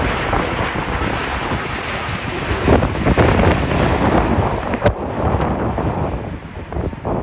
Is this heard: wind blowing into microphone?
yes